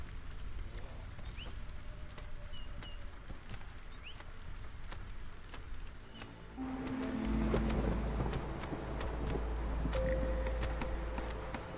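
Thunderstorm with rain in a strategy video game: steady rain hiss underlies faint bird chirps, then a deep rolling thunder rumble swells in and lingers loudly for several seconds, with no talking.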